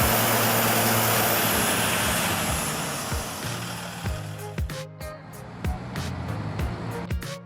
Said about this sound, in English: Wheels spin, mud sprays everywhere, and the Agrotron only sinks deeper.